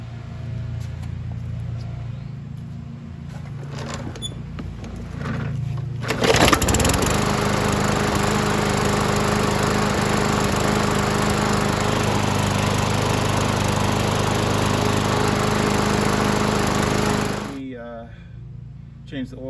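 A landscapers' lawn mower runs steadily in a neighbor's yard, a loud continuous engine drone that swells in partway through and holds for about eleven seconds before cutting off, with quieter engine rumble before it.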